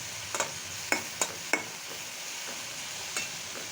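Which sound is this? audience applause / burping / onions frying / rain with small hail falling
onions frying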